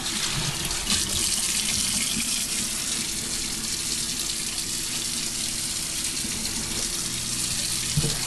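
Tap water runs steadily into a kitchen sink as a bowl is rinsed, a constant close gushing splash that lasts the whole stretch with no talk.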